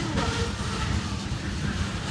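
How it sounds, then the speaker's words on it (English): An eastbound CSX mixed freight train rolls past in Brunswick, Maryland, a loud, steady rumble of railcars close by with no talking over it. "that's a long train"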